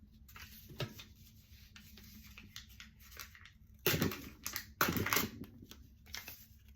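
Paper torn against a tearing ruler, giving several short dry ripping bursts, two louder tears near the end standing out from quieter scraping, close by with no talk.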